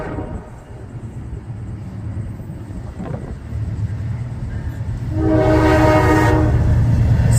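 A Norfolk Southern freight train with a single locomotive on the outer track at Mortimer rumbles nearer, then its horn blasts loudly near the end over the steady rolling noise.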